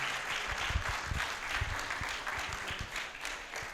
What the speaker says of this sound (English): Can we give our candidates one last round of applause